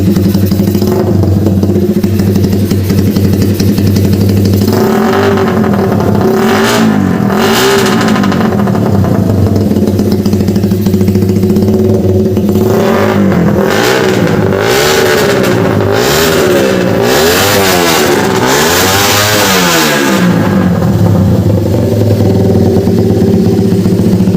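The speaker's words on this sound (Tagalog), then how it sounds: "tinotono na nga ulit ninyo yung sinipis, yung Raider 150" A Suzuki Raider 150 drag bike engine is being tuned, revving loudly and close in repeated surges that climb and fall back toward a rough idle, with several hard bursts near the end.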